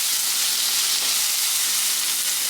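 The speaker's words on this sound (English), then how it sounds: "So just a quick saute." Pork belly trimmings and pumpkin sautéing in a pan give a steady, even hiss of sizzling that runs without a break and holds at the same level the whole time.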